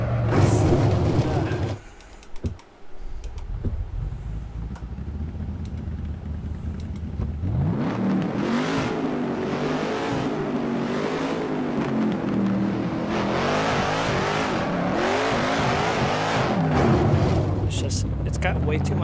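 A powerful car engine revving in neutral at low RPM, loud and close, with a wavering rising and falling drone after a brief quiet stretch; a person talks over parts of it.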